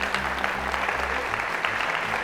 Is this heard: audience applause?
yes